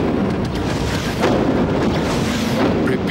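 A sci-fi weapon firing effect in a multimedia space adventure show: a dense, loud burst of booming blasts with a few sharper shots, dominating the clip with no talk.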